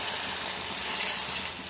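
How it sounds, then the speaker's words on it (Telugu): Water pours into a pan of ridge gourd and potato curry, making a steady, close gushing splash that lasts the whole moment without pause. "ఇప్పుడు మనం కొన్ని వాటర్ వేసుకుందాం."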